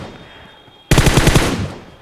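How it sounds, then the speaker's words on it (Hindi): M4 assault rifle gunfire in PUBG, a sudden loud rapid burst of shots after a quiet moment, continuing for about a second with closely spaced cracks. "हेडशॉट मार के फिनिश कर दिया इसे M4 की एक बुलेट पे"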